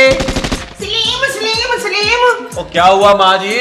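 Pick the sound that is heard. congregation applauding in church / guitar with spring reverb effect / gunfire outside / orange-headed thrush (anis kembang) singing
gunfire outside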